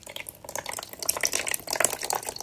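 Water poured from a container around the sides of a potted onion bulb, a steady close trickle and splash as it soaks into the soil and drains through, with no talking.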